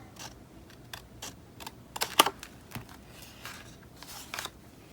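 Scissors cutting paper along the base of a junk journal page, a series of short crisp snips at irregular intervals, close and fairly quiet.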